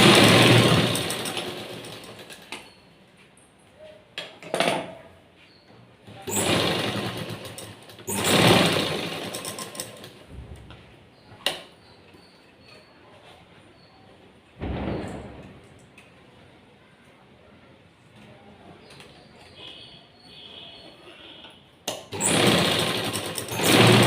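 Sewing machine stitching the shoulder joint of a blouse, bursts of rapid whirring needle runs of a few seconds each, separated by quiet pauses and small handling clicks, close and loud.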